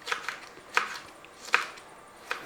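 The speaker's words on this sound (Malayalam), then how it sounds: "രണ്ട് പച്ചമുളക് അത് ഇതുപോലെ കനം കുറച്ചുകൊണ്ട് അരിഞ്ഞിട്ട്" A knife thinly slicing green chilies on a board, four sharp, evenly spaced chops close up against a quiet background.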